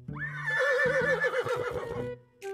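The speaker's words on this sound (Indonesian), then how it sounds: "Ada satu ekor kuda nih teman-teman." A horse in the video game Jurassic World Evolution 2 lets out a single loud, close whinny that climbs and wavers for about two seconds before fading, with a short extra snort at the end and no one talking.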